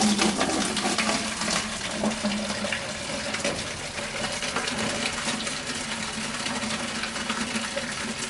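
Coolant pours from a radiator hose pulled off the water pump of an offroad wrecker, a steady broadband splashing and trickling of liquid that runs continuously and fairly close.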